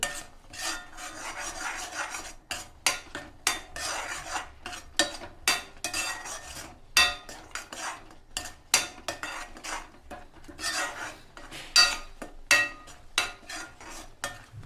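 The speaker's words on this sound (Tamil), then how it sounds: "அரைச்சி வச்சிருந்த மசாலா, எல்லாம் போட்டு கொஞ்சம் நேரம் வதக்கிட்டு" Ground masala sautéing in a cooking pan, with repeated rasping scrapes of a spatula stirring against the metal in an uneven rhythm over a faint sizzle.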